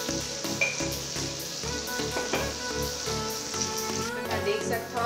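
Masala frying in oil in a pan for a Chhattisgarhi bhindi dish, giving a steady, close, crackling sizzle with small pops throughout and no talking.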